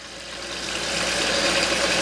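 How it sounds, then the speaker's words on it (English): A water pump on a fruit and vegetable washer switches on, a steady motor hum and rushing water that builds in loudness over the first second and then holds steady, close by, with no voices. "My pump turned on, the water pressure went up."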